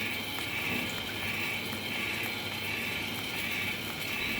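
A smart toilet's washing spray, controlled from an N50 remote, runs as a steady, even hiss of water throughout, with no voices over it.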